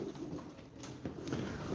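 Soft, low cooing from tumbler pigeons nearby at a pigeon auction, repeated a few times over a faint background hiss.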